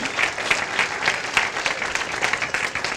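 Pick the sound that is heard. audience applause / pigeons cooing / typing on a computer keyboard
audience applause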